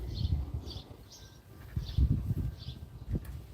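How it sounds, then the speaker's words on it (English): Birds chirp loudly outdoors on a front porch, with repeated bright short calls sounding at intervals over low rustling and handling noise. "Loud birds."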